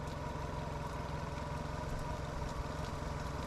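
Car engine idling steadily with a repaired idle air control valve, a continuous low mechanical hum holding an even, close rumble throughout with no talk.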